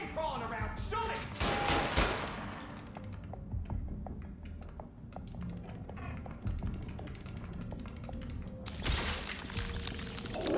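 Bursts of gunfire in the video game Marvel's Spider-Man 2, sharp shots opening and closing the stretch with scattered ticking impacts between, over steady game ambience.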